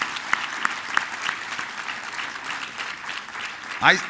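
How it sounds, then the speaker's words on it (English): Audience applause for armed forces veterans at a talk, a sustained wash of clapping hands at moderate volume, ending with a brief rising whistle or squeak near the end. "Could we give them a round of applause, please?"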